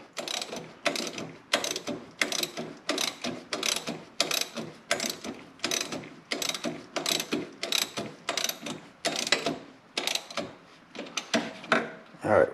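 A bolt being snugged up by hand ratchet on the electronic PTO clutch of a Hustler zero-turn mower, giving a steady run of about twenty close, crisp ratcheting bursts that slow and grow uneven near the end.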